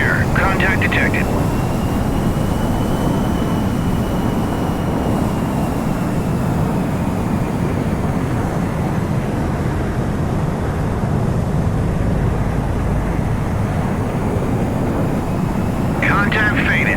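Aircraft flying in the naval game Sea Power, a loud, steady engine roar sustained throughout with no break, with brief radio-like chirps at the start and end.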